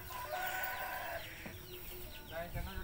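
Chickens clucking nearby, several short bird calls and clucks scattered across the clip over a background of ambient noise and faint voices.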